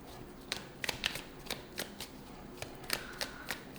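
Animal Oracle cards being shuffled by hand, a run of crisp papery riffles and slaps in irregular bursts, close and fairly quiet, with no talking.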